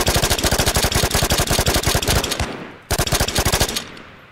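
Aliens fire rapid automatic gunfire in the PC survival shooter Shattered Skies, a loud sustained burst of shots, a brief pause, then a second shorter burst that trails off.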